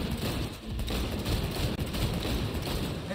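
Gunfire in Cyberpunk 2077: dense continuous burst of shots blending into a harsh wall of noise, loud and close, with no talking.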